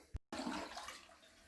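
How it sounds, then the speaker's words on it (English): A newly installed toilet flushes close by in a bathroom: a short knock, then a sudden rush of water that swirls and slowly fades, no one speaking. "we've been flushing it here several times."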